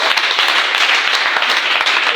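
A church congregation applauds during a sermon, a dense steady patter of many hands clapping close by, with no voice over it.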